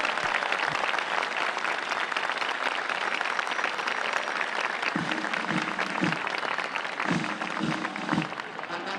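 A crowd applauds a Chilean army band in Argentina with steady, dense clapping throughout, and a few rhythmic drum-like accents join in partway through.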